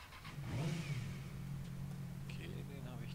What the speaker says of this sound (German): Motorrad.